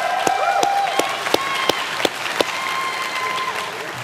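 A studio audience at a talk show claps in a light, scattered way, with sharp individual hand claps spread across a few seconds over a murmur of voices.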